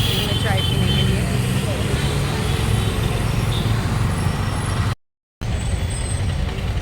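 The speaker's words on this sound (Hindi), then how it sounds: "अभी यहाँ पे इतना ट्रैफिक जाम हो रहा है।" A dense roar of traffic stuck in a jam on a busy Mumbai street: rumbling engines and a steady hum with the hiss of air brakes. A voice is heard over the continuous noise.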